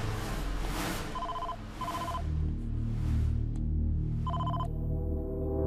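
An electronic phone ringtone chirps in several short repeated bursts over a low background hum, with no talking.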